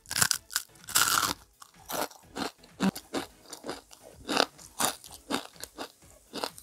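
Crunchy bites and chewing of crispy okoy (Filipino fried fritters) during a mukbang, with repeated close, loud crackling crunches in an irregular rhythm and no talking.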